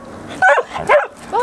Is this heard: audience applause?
no